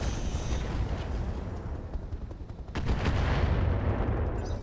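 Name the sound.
weapon shot at a gladiator mech in RogueTech video game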